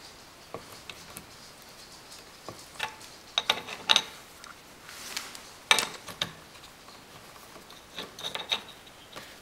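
A plumbing fitting being tightened on a dishwasher turned on its side, with close, scattered metallic clicks and ticks of a wrench or fitting, some sharper ones clustered midway, over a quiet background with no talk.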